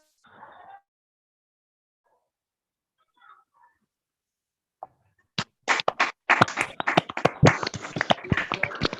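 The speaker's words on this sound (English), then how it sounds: "Could you please unmute yourself and clap?" Students on an online class call clap after unmuting, a burst of sharp, uneven handclaps starting midway and building into dense scattered applause, preceded by brief faint noises.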